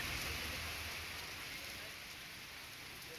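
Heavy rain pours down across Bengaluru, a dense, steady hiss of drops striking surfaces that fills the whole stretch evenly and loudly, with no voices over it.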